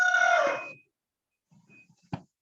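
A chicken calls out with a loud drawn-out squawk like a short crow, then soft clucks and a sharp knock follow in a quiet room.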